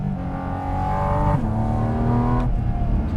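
A Porsche GT4 RS sports car engine pulls hard on a narrow, winding road, its loud close revs climbing with two quick gear shifts and no talking.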